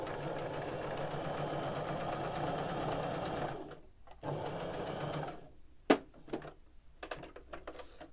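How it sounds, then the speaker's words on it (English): A sewing machine sews down into a sharp corner point, running steadily and close for several seconds before stopping, followed by scattered clicks and taps as the fabric is turned. "this is just how you would normally sew down into a point and turn"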